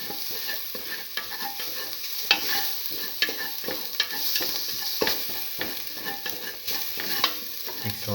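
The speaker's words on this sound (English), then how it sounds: "Thoroughly sauteing it." Ingredients for garlic mung bean tamarind pasta sautéed in a pan, a bright steady sizzle broken by repeated scraping and clinking stir strokes at an irregular pace, close by.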